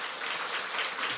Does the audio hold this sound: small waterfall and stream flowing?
no